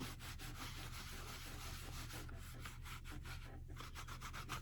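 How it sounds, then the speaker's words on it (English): A dry cloth rubbing and polishing a leather notebook, a steady brisk scrubbing rasp with quick back-and-forth strokes, close and continuous, over a low constant hum. "you can take the dry side of this and you just take it and you just rub it down and polish it up"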